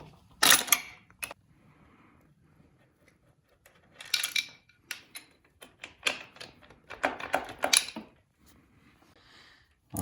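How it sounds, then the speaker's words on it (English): A wrench works a 12mm bolt off the kickstart of a 1998 Suzuki RM 250 during a rebuild, giving close bursts of sharp metallic clicks and ratcheting separated by quiet gaps. "a 12mm bolt holds this kickstart on. You want to loosen it up."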